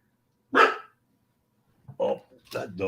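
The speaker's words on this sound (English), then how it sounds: "Oh, that dog." A dog barks once sharply and loudly, nearby, followed after a pause by a few more vocal bursts that could be further barks or voices.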